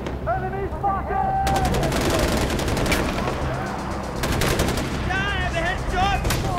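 Gunfire in the shooter Far Cry 4 comes as rapid automatic bursts and single shots over loud battle noise, with voices shouting in between and a rattling volley near the end.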